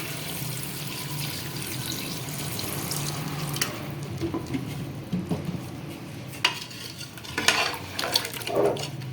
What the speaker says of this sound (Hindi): इसमें हमने 1 गिलास पानी शामिल कर दिया है।